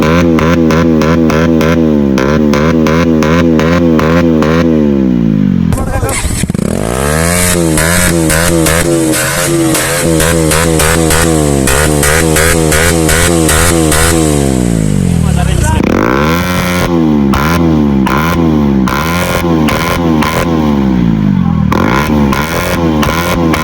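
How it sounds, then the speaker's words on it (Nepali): A motorcycle, likely an FZS V2, revving loudly and repeatedly with its exhaust popping and crackling in rapid bursts, close and sustained, with voices shouting over it. "केटाहरूले बाइक पड्काउनु थाल्यो"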